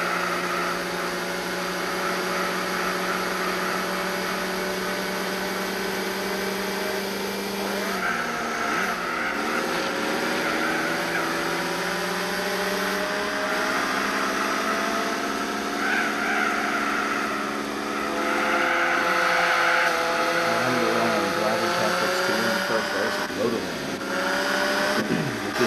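Small kei car engine droning continuously in Gran Turismo 4 during a lightweight race, a loud buzzy tone that rises and dips through gear changes, with a person talking over it.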